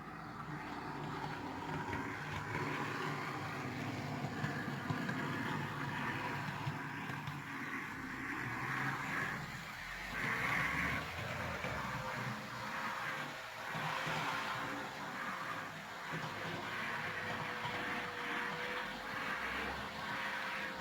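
A Bachmann class 24 OO gauge model locomotive running on a layout, its motor giving a steady low hum and whir that swells and fades slightly over about twenty seconds with no talk.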